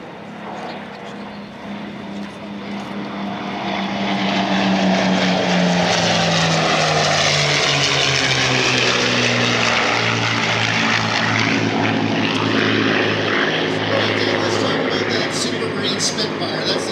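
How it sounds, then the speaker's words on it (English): A formation of World War II propeller warbirds, an A-1 Skyraider leading a P-51D Mustang, a Spitfire and a Bearcat, flies by at an airshow, swelling from a distant drone to a loud, sustained piston-engine roar with a falling pitch. "the heavy machinery is now coming in with the A1 Skyraider in the lead"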